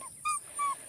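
A Maremma puppy gives two short, high-pitched whimpering yips close by, with a brief pause between them, against quiet background hiss.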